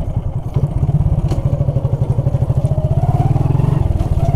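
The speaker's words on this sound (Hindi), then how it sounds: "हमारा बाइक स्टार्ट हो गया है" A second-hand motorcycle engine running after being started, with a rapid, even thumping idle that is loud and close, steady for several seconds with slight mechanical clatter; no talking.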